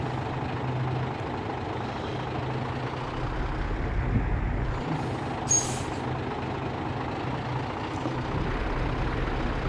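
An Eicher 3019 truck in a driving video game gives a steady, loud, low engine drone that runs continuously, with a short sharp air-brake hiss partway through and no voices.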